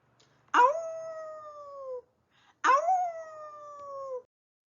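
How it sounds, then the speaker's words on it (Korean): Two long wolf howls, each rising sharply then sliding down in a drawn-out falling tone, clear and alone with a short pause between them. "벅이란 개가 이 늑대 울음소리를 듣고 격렬하게 반응해요"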